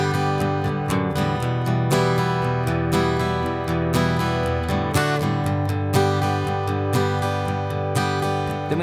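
An acoustic guitar plays the intro to a song, with steady, full strummed chords in an even rhythm throughout and no voice over it.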